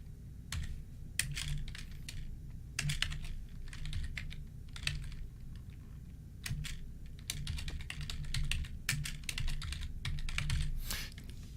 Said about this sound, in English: That's how you know the typewriter's back.